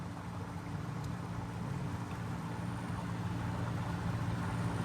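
A Topcon-guided rice transplanter runs in a flooded paddy field, its engine droning steadily and evenly at close range for the whole stretch, with no voices over it.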